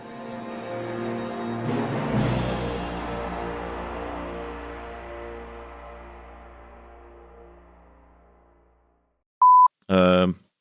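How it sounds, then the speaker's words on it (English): A computer gives a short, clean electronic beep as an update notification, followed by a second, longer tonal burst, both loud and isolated after a long fading musical outro. "I did hear the update bing. There was a beep."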